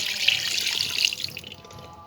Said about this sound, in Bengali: মাংসটা আমি প্রেশার কুকারের মধ্যে নিয়েছি এবারে সামান্য একটু পানি দিয়ে দেব